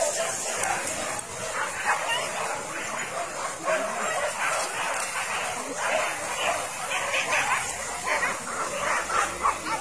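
Hunting dogs chasing wild boar yip and bark excitedly, with whimpering mixed in, under steady outdoor noise and people talking throughout.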